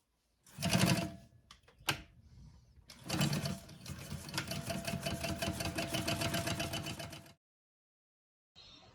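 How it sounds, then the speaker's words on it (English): An industrial sewing machine starts with a few short bursts, then runs in a fast, steady mechanical rattle for several seconds before stopping abruptly. "Of course, it would help if I turned on the sewing machine."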